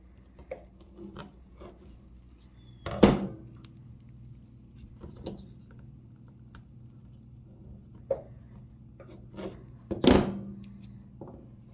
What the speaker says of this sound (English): What I'm gonna do is I'm gonna cut it all the way out